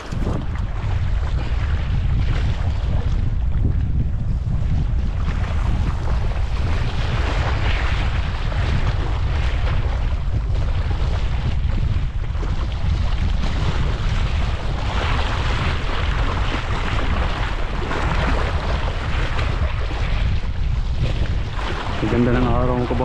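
Strong wind buffets a small boat out mackerel fishing off Kenmare, Ireland, in a constant, rough roar across the whole stretch, with water and hull noise mixed in.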